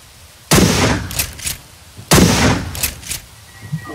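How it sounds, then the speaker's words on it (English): Two loud gunshots in a video game, each a heavy boom about a second and a half apart with echoing tails and smaller cracks trailing after. "Somebody just shot me."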